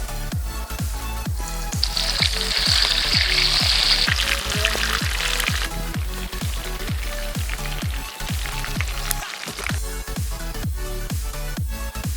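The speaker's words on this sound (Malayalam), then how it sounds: "നമ്മുടെ ചിക്കൻ്റെ വൺ സൈഡ് ശരിക്കും പൊരിഞ്ഞിട്ടുണ്ട്. നമുക്കിത് മറിച്ചിട്ട് കൊടുക്കാം." Spring chicken pieces frying in hot oil give a loud, continuous close sizzle and crackle, with regular rhythmic thumps underneath throughout.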